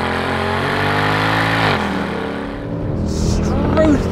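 A Mercedes-Benz CLK 63 AMG Black Series 6.2-litre naturally aspirated V8 revs hard and loud, pitch climbing then dropping as it shifts, with a deep throaty rumble throughout.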